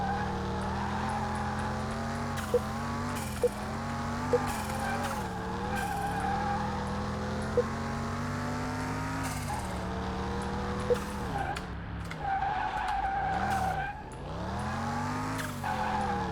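A car engine revs and drones continuously as tires squeal and skid repeatedly, with occasional sharp clicks, from the racing game Car Mechanic Simulator 2021.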